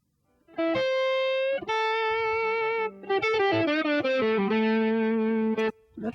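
A pre-recorded heavy blues guitar track plays soloed, with loud distorted sustained notes and bends in several phrases separated by brief gaps, thick with effects.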